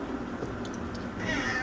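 Black kittens at an animal shelter meow over steady room noise, a few short cries in quick succession at moderate volume with background chatter from other cats.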